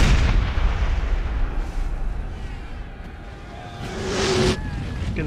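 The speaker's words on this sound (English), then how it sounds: "Everyone barrage, because the enemy is clustered together." A Napoleonic-era artillery barrage in Napoleon Total War rumbles as heavy booming blasts that roll and fade, with a sharper crack near the end, loud and low, with ambient battlefield noise and no speech.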